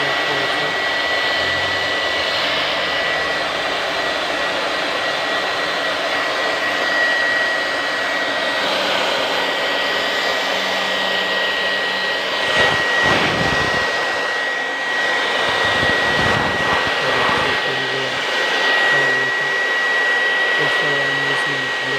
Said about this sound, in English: Also I am using blower machine.